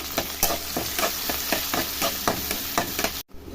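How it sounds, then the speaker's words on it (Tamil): Onions sautéed with curry leaves in a hot pan give a steady close sizzle broken by regular scraping stirs, with no one talking. "அப்புறம் வெங்காயம் போட்டுக்கோங்க நல்லா வதக்கிடுங்க"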